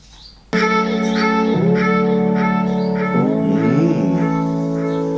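Music plays from a Tronsmart Halo 100 Bluetooth speaker in normal mode, sustained tones shifting between a few held chords, starting abruptly after a quiet moment.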